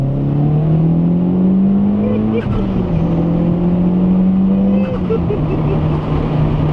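A 2011 Mitsubishi Evo X with super all-wheel control accelerates hard, its engine note climbing in a loud, steady pull, dipping briefly at a shift and rising again, heard from inside with voices talking over it.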